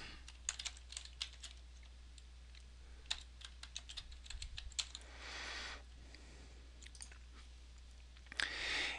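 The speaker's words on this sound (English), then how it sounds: "So I'm going to click on that and log into SharePoint as Nick." Computer keyboard typing and mouse clicks while logging into SharePoint, with irregular bursts of close keystrokes and a few sharper clicks over a steady low hum, no talking.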